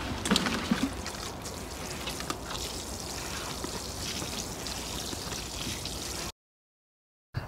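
Water pours steadily from a can into a potted young tomato plant being transplanted, a continuous close trickle and splash lasting about six seconds before stopping, with no talk.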